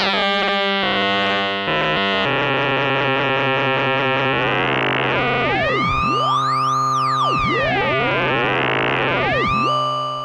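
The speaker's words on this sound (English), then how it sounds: "you can get those FM tones" A Behringer Toro synthesizer plays FM tones: loud, bright, sustained metallic notes with rapid stepped changes, then long swooping pitch sweeps rising and falling, alone with no voices.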